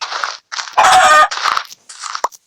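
Close, loud chicken clucks in Minecraft in quick bursts, with one longer squawk in the middle, sounding crisp and slightly artificial.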